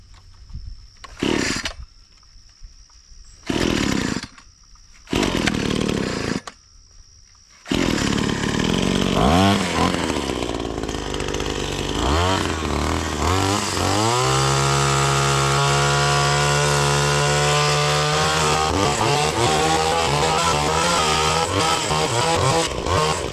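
A Wild Badger all-in-one power tool cuts weeds, first in short starts and pauses, then running continuously with a loud, buzzing engine whine that rises and holds steady at high revs, no talking.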